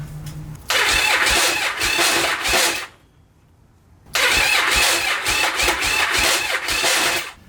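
A Yamaha Virago XV1100 motorcycle starter cranks and grinds in two loud, close bursts of about two and a half and three seconds, separated by a short pause, and the engine never catches.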